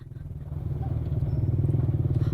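A motorcycle engine drones close by, its steady rapid putter building slightly louder as the bike pulls away, with a faint clatter and no talk over it.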